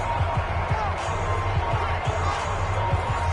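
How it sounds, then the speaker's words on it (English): A football stadium crowd roars in a continuous, loud wash of cheering and noise, with rhythmic thumps and claps running underneath. "The crowd getting into it as we come up on a big 3rd down."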